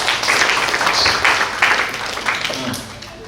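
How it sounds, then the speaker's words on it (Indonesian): A gathering at a university's first lecture for new students breaks into applause, a busy wash of clapping with a voice faintly present underneath, gradually easing off toward the end. "Tepuk tangan untuk kita semua."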